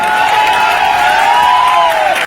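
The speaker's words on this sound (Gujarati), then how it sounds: "એકવાર તાળીઓથી વધારો સાહેબ." A crowd at an AAP political rally in Gujarat cheers and applauds loudly and steadily for about two seconds, with a sustained whistle-like tone riding over the noise, then cuts off abruptly.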